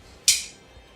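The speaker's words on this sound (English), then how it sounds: "That is the sound of Gabriel failing to open a can of Coke." A single sharp hiss-like click of a Coke can's tab being tried, one quick bright burst that fades within half a second in a quiet room, with no fizz following.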